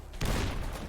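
A grenade blows up in the Fallout video game: one sudden, loud, close boom that swells into a thick, rumbling blast and then holds a sustained crackling roar.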